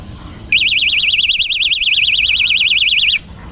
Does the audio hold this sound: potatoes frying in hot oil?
no